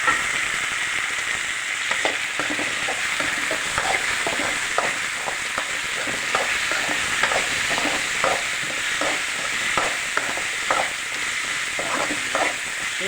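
Onions sautéing in a pan, giving a continuous close sizzle and frying hiss with regular spatula strokes clicking against the pan every second or so.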